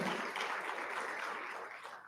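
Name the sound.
applause at a graduation ceremony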